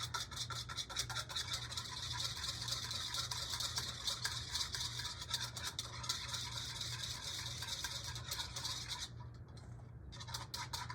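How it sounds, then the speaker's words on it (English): A whisk lightly beats egg white in a bowl, a soft continuous scratchy swishing with fast rhythmic strokes, faint and close, stopping briefly near the end; no talking. "I'm just gonna lightly whisk it."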